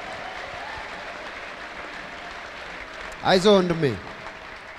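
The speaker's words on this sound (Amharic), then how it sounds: "ቁሙና አጨብጭቡ።" A church congregation applauding at a prophetic service, steady dense clapping throughout with a voice briefly speaking over it near the end.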